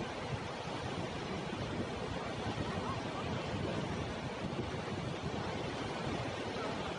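The Beas River in flood during heavy monsoon rain in Manali, Himachal Pradesh, a dense, constant roar of rushing water that stays loud and unbroken throughout, with no voices.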